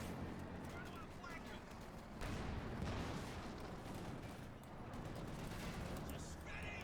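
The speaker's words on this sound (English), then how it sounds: "Shot fired." Dense, continuous gunfire and explosions rumble through a Company of Heroes 2 battle, a thick, loud wash of shots with heavier bursts midway, and a voice talks over it throughout.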